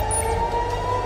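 A steady, wailing air raid warning siren sounds over Tel Aviv, holding a continuous tone against a low background rumble for about a second.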